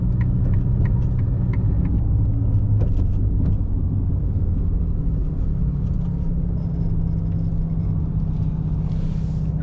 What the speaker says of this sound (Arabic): حاليا بنحط على سبورت مود بعد عشان الصوت يعلى الماكينة والصوت الاكزوست